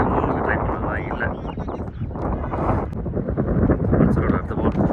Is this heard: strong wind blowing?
yes